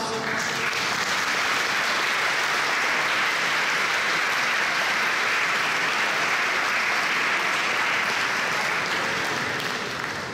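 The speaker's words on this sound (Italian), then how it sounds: "Facciamo un applauso." An audience at a parish choir festival in Termoli in December 2017 claps in loud, sustained applause that fills the hall for about ten seconds without a break.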